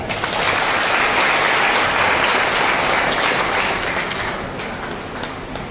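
Loud, dense applause from a large crowd of employees at a rally over the old pension scheme, sustained for several seconds and easing slightly toward the end.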